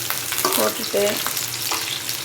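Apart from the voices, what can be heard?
curry leaves sizzling while sautéing in pan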